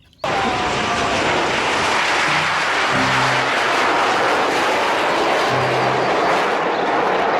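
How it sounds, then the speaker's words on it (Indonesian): A toy fighter jet sound effect plays loudly and steadily as a roaring aircraft engine whoosh, starting abruptly and holding constant throughout with a few low tonal blips. "Muncullah pesawat jet tempur."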